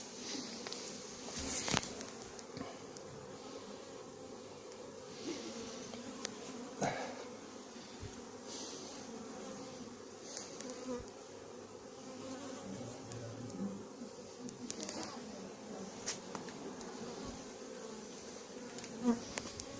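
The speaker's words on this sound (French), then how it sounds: "un essaim au bout d'une branche, c'est assez solide" A honeybee swarm clustered at the end of a branch by a house in Fontenay-sous-Bois hums in a steady, close drone, with occasional louder buzzes as individual bees pass near.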